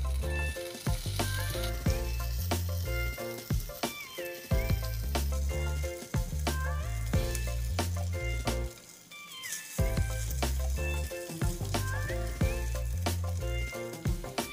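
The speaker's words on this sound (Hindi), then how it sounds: "टिक्की को फ्राई करना है।" Tokri aloo tikki frying in hot oil in a pan, a steady close sizzle and crackle running throughout with occasional stirring scrapes.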